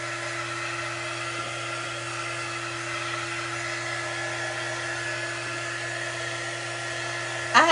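A hair dryer blows steadily and evenly at close range, drying something small by hand, with a short rise in noise near the end.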